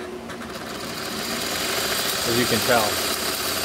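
Old homemade guitar pickup winding machine running with a steady motorized whir and shaky, rattling vibration, loud and close while someone talks over it.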